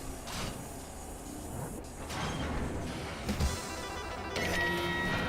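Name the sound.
classic map door opening after a lever pull in the DOOM video game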